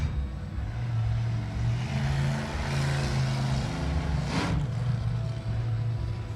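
Nearby monster truck engines drone loudly and steadily at an outdoor bull riding event, with throttle pitch shifting up and down and one brief rising surge partway through.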